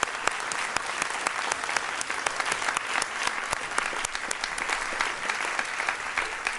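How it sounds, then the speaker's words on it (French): An audience at a lecture and debate on psychoanalysis applauds steadily, with dense, even clapping heard from a moderate distance and no voices over it. "Je vous demande d'applaudir M."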